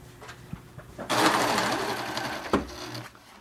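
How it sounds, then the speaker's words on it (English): A sewing machine runs steadily, stitching slipcover fabric close along a cord with a long basting stitch, one continuous near and fairly loud burst of whirring that stops abruptly, with faint handling sounds before and after. "We want to sew pretty close to that cord when we attach the arm itself to the arm front."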